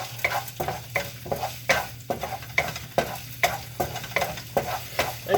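Garlic and ginger fry in a pan for spicy chicken, a steady sizzle broken by regular scraping strokes of a utensil at a quick, even rhythm, close and clear with no voices.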